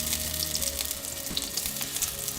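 Potatoes fry in vegetable oil in a pan over medium heat, giving a steady close crackling sizzle with small pops, heard alone.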